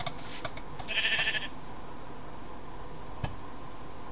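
A sheep bleats once, briefly and faintly, over a quiet, steady background hum, with a few soft clicks and a sharp tick near the end.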